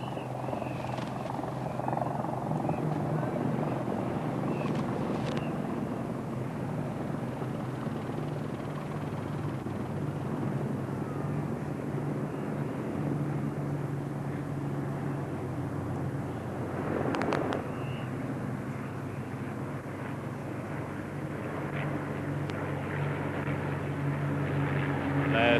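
An Avro Lancaster bomber with a Firefly, a Hurricane and a Bristol Blenheim flying past in formation at a D-Day commemoration, a steady, droning roar of wartime piston engines that holds for a long stretch, with brief faint voices.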